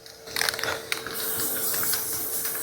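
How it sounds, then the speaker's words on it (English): Gorilla Glue spray adhesive hisses from an aerosol can onto a swarm of yellow jackets, starting as short spurts and settling into a loud, continuous close-up spray. "They got that spray adhesive on them."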